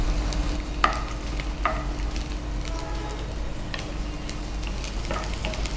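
Cashews fry in a pan with a steady, close sizzle, and a utensil stirs them with a few scraping clicks.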